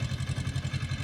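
Tractor running with a cutter attachment in a chilli field, a low, rhythmic engine chug pulsing steadily and close by for about a second.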